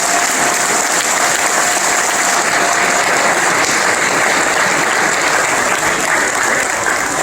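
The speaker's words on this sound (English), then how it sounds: "You guys give him a round of applause." Sustained, loud applause from a breakfast audience at a bowl game event for award winner Austin Hill, a dense continuous wash of clapping holding steady for over seven seconds.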